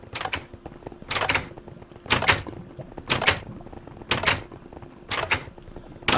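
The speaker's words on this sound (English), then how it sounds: "This door doesn't open." Someone repeatedly tries a locked door in a video game, which gives about seven sharp rattling clunks at roughly one-second intervals, each a loud bright burst over a quiet background.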